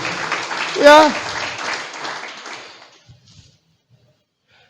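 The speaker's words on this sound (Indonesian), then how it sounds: "Tepuk tangan buat dia" A church congregation applauds during an online worship service: a burst of broadband clapping that fades out after about three seconds, with a brief voice near the start and quiet after.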